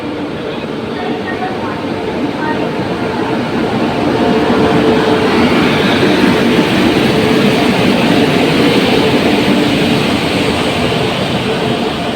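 A train pulls in at a station, a loud continuous rumble of wheels and carriages that swells and holds steady, with faint voices mixed into the noise.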